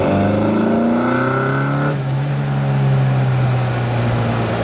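A Mk3 Mini Cooper S with twin carburettors right behind the bulkhead accelerates hard from inside the cabin, its loud engine note rising steadily, then dropping at a gear change and climbing again, with no talk.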